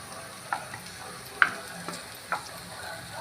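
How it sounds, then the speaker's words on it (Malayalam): Chicken pieces being stirred into a frying filling in a pan, with a faint steady sizzle and a few sparse spoon scrapes and clicks against the pan. "ഇത് നന്നായിട്ടൊന്ന് ഇളക്കി കൊടുക്കാം"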